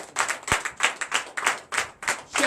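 A church congregation claps in worship for Jesus during a Sunday teaching service, rhythmic bursts of hand claps roughly every quarter second, close and lively, with one sharp louder clap standing out.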